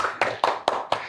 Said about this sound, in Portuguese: Amara Moira, Palmas.